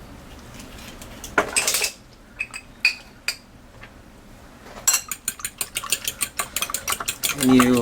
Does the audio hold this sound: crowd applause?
no